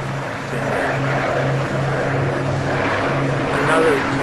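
An Avro Lancaster bomber, a four-engine propeller aircraft, flies over Canadian scenery, a continuous droning engine hum with a low throbbing tone at steady loudness, under a narrator's voice.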